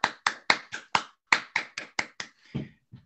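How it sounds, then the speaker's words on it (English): A small online audience for a research challenge gives a brief round of applause: about ten crisp, evenly spaced hand claps, fairly faint, ending with a couple of softer knocks. "let's give a quick round of applause for CU Boulder."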